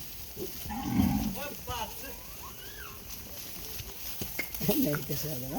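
Calves moo repeatedly at a goat farm, several drawn-out bawling calls from nearby livestock, with people talking in the background between and over the calls.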